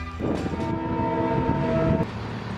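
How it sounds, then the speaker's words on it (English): A single long car horn blast, steady and loud, lasting nearly two seconds over a low background rumble before cutting off. "So there was that honk"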